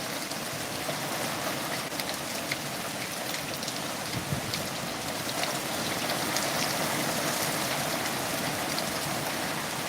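Rain pouring down outdoors at night, a dense, continuous patter on the ground with scattered sharper drips and a slight swell in intensity partway through.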